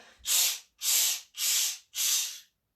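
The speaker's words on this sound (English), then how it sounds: "We take in 1 deep breath, and then we're going to release it in little bursts." Bhastrika yoga breathing: four sharp, forceful breath exhalations in short bursts, evenly spaced and close up, each a loud airy rush separated by brief silences.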